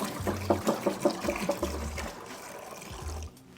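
Water pours and splashes into a bucket to mix a cleaning solution, a close trickling stream with gurgling pulses that runs for about three seconds and then stops.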